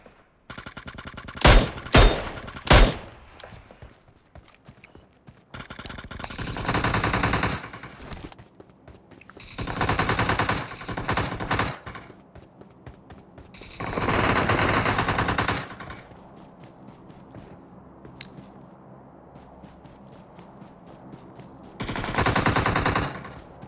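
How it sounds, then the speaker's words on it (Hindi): Gunfire in the mobile battle-royale game PUBG Mobile: a few sharp single shots, then several sustained automatic bursts spaced over the span, loud and close, with quieter background game noise between them. "Now taking shot."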